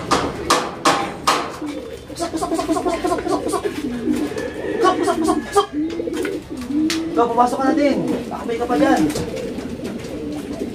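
Pigeons coo repeatedly at close range, soft throaty rolling calls overlapping, with people talking over them and occasional sharp knocks.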